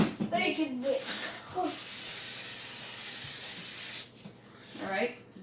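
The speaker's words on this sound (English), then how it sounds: "give that pan a spray, Mish." Cooking spray hisses onto a pan in a kitchen, a steady broadband spray lasting about two and a half seconds, close and fairly loud, with people chatting briefly before and after.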